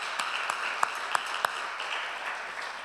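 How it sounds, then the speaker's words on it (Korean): Congregation applause during an Easter Sunday worship service, a dense wash of clapping with a few louder, distinct claps popping out, sustained at moderate level throughout. "우리 부활하신 주님 앞에 영광의 박수 올려드리겠습니다"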